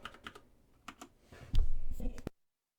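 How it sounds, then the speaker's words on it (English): Typing on a computer keyboard while entering record details into an estate agent database, light scattered key clicks at first, then a louder close burst of rapid keystrokes before stopping. "and type in the details."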